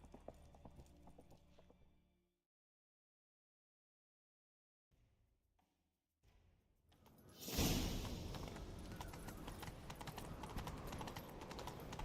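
Horse hooves clip-clopping at a gallop in The Witcher 3: Wild Hunt, loud and steady, after a brief lull, with a whooshing rush as the ride picks up.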